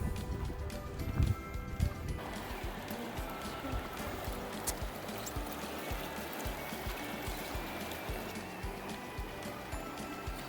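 Soft, steady rushing of flowing river water among canes and reeds near a hot spring in Big Bend National Park, heard from a distance, a continuous low wash with faint trickling detail.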